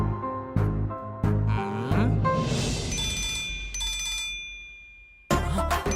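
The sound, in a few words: mobile phone ringtone, incoming call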